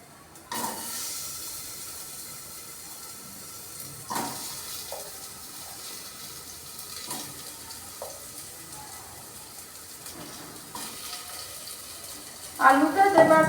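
Potato pieces frying in hot oil for a papaya curry give off a steady faint sizzle and hiss with occasional spatters, growing louder and crackling near the end while someone talks over it.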